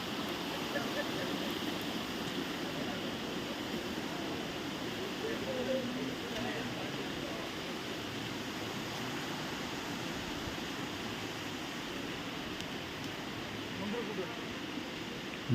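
Mangar Dara waterfall at Tentulikhunti, a constant broadband roar of falling water that stays even and unbroken throughout, heard from a moderate distance.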